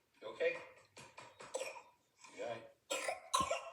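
A few harsh coughs in separate bursts, close and fairly loud, mixed with speech in an indoor setting.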